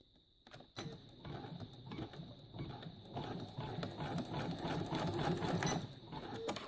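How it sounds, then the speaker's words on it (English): Up close, an embroidery machine stitches the first row of a quilt in a fast, steady mechanical chatter. It starts after a brief quiet moment and runs continuously. "I always babysit the machines while they do this first row of stitching"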